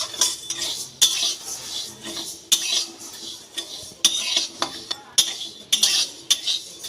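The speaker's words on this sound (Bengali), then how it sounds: "মুগ ডালটাকে লাল লাল করে একটু ভেজে নিতে হবে।" Moong dal dry-roasts in an oil-free pan while a spoon stirs it in repeated bursts of close scraping and clinking, with grains rattling between strokes. No one talks.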